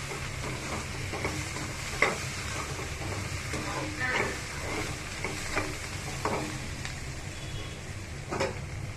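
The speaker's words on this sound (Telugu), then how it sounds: "పుదీనా, కొద్దిగా కొత్తిమీర వేసి కలుపుకుందాం" Egg curry frying in a pan while mint and a little coriander are stirred in, a steady sizzle with repeated scraping strokes of the spoon throughout.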